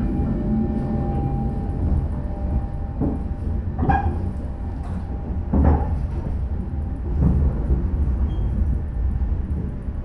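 The KA Kertajaya train rolls into Cikarang station with a low, steady rumble and a few sharp clanks and squeals as it slows, heard from on board.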